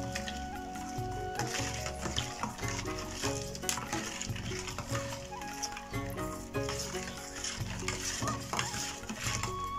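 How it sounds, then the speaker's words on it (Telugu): Ugadi pachadi being stirred in a pot until the jaggery melts, a steady scraping and mixing that runs throughout under a continuous layer of music, with no voices. "బెల్లం కరిగేదాకా కొంచెం ఇలా కలిపేసుకుంటే మనకు ఉగాది పచ్చడి రెడీ అయిపోయినట్టు."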